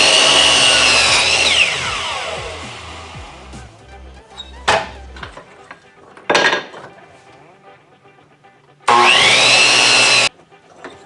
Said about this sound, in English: I'm gonna go ahead and move the saw to 45, and I'm gonna cut 2 miters on this board